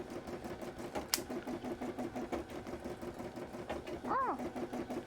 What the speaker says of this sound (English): We've already programmed this embroidery for it, so we did all the hard work and now the machine gets to do the hard work today.